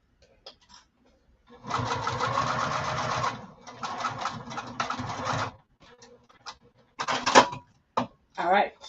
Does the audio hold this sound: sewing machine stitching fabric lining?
yes